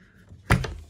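A Zanussi appliance door that has been replaced once gives a single close, solid thunk as it is handled, a short dull knock with a brief rattle after it and no talk.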